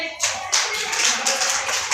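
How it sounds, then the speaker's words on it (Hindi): Children clap their hands together in a classroom, a brisk burst of overlapping claps that continues steadily at close range. "ताली बजाओ सब इसके लिए"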